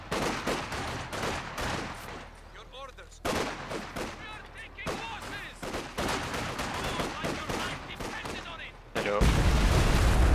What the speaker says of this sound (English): Yeah, it is hard when there's rifle fire.